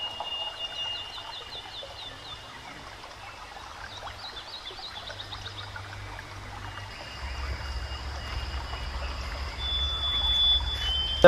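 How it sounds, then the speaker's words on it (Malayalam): A small stream trickles and flows steadily beside a grassland in Wayanad, its soft continuous babble joined by birds chirping and a low rumble that grows slightly louder toward the end. "ആ പുൽമേടിന്റെ സൈഡിൽ കൂടെ ചെറിയൊരു അരുവിയും"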